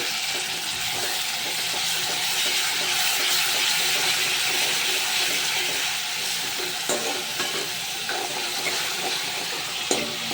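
Tomatoes frying in a pan for a spicy fish curry give off a dense, steady hiss and sizzle at close range, with occasional faint stirring clicks toward the end.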